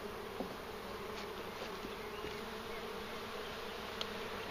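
Honey bees from a captured swarm hum in a dense, steady drone close by as their hive is handled, with faint clicks and knocks from the frames.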